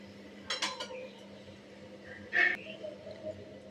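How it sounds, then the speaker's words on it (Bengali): A lid set back onto a cooking pot of ridge gourd gives two short metallic clinks, the second louder and ringing briefly, over a faint low hum of a kitchen. "এটা আবার ঢাকা দিয়ে দিলাম।"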